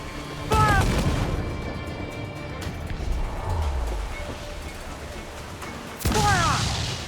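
Ship cannons firing in Assassin's Creed IV Black Flag during a naval battle: two loud booming volleys about five seconds apart, each with a crackling roar, over constant sea and battle din with shouting crew.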